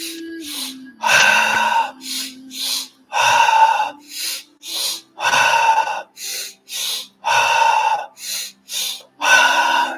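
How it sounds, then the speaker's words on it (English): A person takes deep, forceful breaths during a breathwork exercise, alternating long and short breaths in a steady rhythm, close and loud, with a soft tone playing underneath. "Okay, breathing in."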